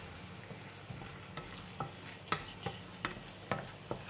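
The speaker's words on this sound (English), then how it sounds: "I'm going to pour in the meat. It's going to mix it together with the curry paste." Pork rib meat is stirred into curry paste frying in a pan, a low steady sizzle punctuated by a series of roughly regular scraping knocks of the utensil against the pan, quiet and close, with no one talking.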